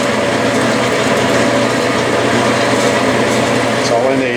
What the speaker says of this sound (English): I'm going to drill just a ½ inch deep or less.